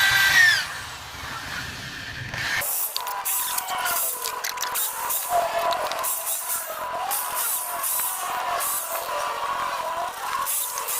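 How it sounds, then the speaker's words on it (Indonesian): A power drill boring holes into a coconut shell, a harsh, gritty, buzzing whine that runs steadily for several seconds with small fluctuations as the bit bites, following a short stretch of other sound. "Oke, kita bor satu persatu dan saya membuat 3 lubang di sini."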